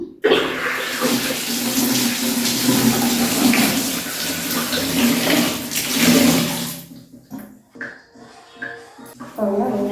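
A blouse is hand-washed in water with homemade liquid detergent, giving loud continuous sloshing and splashing for several seconds. The washing then breaks off into quieter scattered splashes and handling noises, with a voice speaking.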